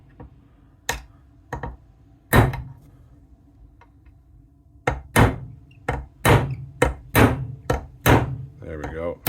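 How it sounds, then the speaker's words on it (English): Hammer blows on a brass punch drive a taper pin out of a South Bend Model 9A lathe gearbox: sharp metallic knocks, a few spaced strikes at first, then a quicker series of close, loud blows. "We'll just use the brass punch from here."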